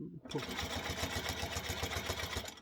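A Juki sewing machine stitching a quilt runs steadily with a fast, even mechanical whir and rhythmic needle clatter, close up and continuous.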